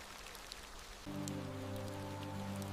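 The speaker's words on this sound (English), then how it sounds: "The first drops of rain remind them that autumn's time is nearly over." Steady autumn rain patters down in a wild Stone Age landscape, a soft, even hiss that runs throughout, joined after about a second by sustained tonal music.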